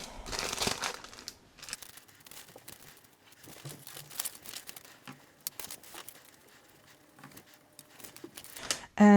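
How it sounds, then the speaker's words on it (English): A paper bag crumpled and crinkled by hand in a quiet room during coffee paper dyeing, a run of sharp irregular crackles and rustles, close to the microphone, with a louder burst at the start and short pauses between. "A paper bag."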